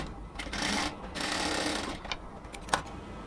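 A sewing machine runs in steady bursts, stitching lace onto a dress collar; the needle's rapid mechanical chatter starts and stops a few times at close range, with a brief click near the end.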